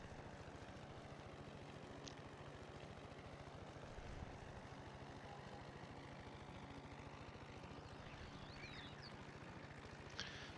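A helicopter flying over a hilly farm map in Farming Simulator 22, a steady, quiet rotor and engine drone with a regular chopping pulse that continues unchanged throughout.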